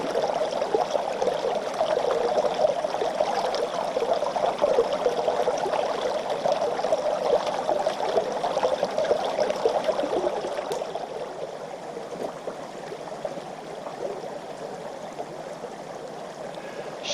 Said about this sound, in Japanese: とりあえずこの川の音で癒されてください。